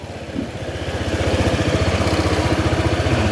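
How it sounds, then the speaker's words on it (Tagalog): A motorcycle engine with a new CVT belt idles steadily up close, its low rapid thumping pulse holding even after a brief rise at the start. "Normal na yung ganyang tunugan nila kasi mas malaki na kasi ngayong kanyang makina."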